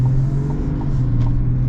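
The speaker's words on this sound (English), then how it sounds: "I guess I'll get one more little acceleration" A 2024 Chevy Silverado ZR2 pickup truck accelerating: a steady, loud, low engine drone heard from close inside the cab, with no voices.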